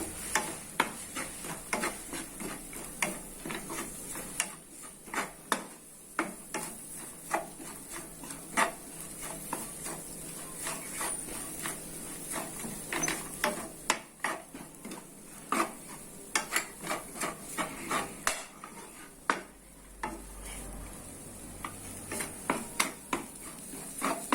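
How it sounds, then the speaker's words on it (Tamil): Mixed vegetables for street-style fried noodles stir-fried on high flame, with a continuous sizzle and constant rapid clattering and scraping of a metal ladle against the pan, busy and close throughout. "இந்த காய்கறிலாம் நல்ல வேகிற அளவு ஹை ஃப்ளேமில் வச்சு கிண்டிகிட்டே இருங்க"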